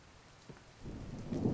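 Steady rain hisses softly, then swells heavier and louder toward the end, with a low rumble in the mix.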